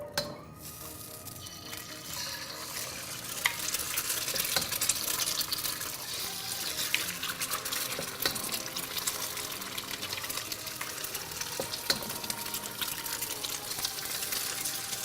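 Beaten eggs sizzling and frying in hot oil in a wok for pad thai, a steady loud hiss with scattered crackles and spatula scrapes, no talking.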